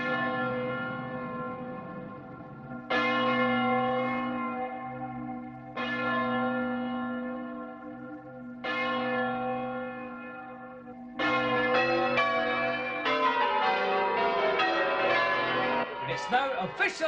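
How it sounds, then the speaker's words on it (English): Church bells ring at midnight for New Year in the west of Scotland, with a slow sequence of single resonant strikes, each decaying for a few seconds, then a faster overlapping peal at the end, heard as a 1982 Hogmanay broadcast. "As the bells ring out, announcing the birth of a new year"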